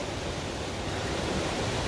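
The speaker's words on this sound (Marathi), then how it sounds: "हा विशाल असा रौद्ररूप ज्या धबधब्याचा बघायला मिळतोय हाच तो धारकुंडचा" Dharkund waterfall roars as a dense, continuous broadband rush of falling water, loud and unbroken for a brief moment.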